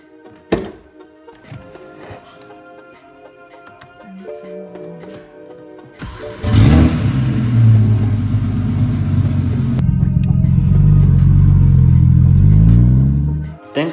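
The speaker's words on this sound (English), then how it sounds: "Now all we have to do is take her for a test drive, do a pull, see if she works." A BMW E92 335xi on a test drive after an ABS wheel speed sensor replacement: a door thunks shut, then the engine starts and pulls hard, a loud rising rumble building for several seconds before easing off.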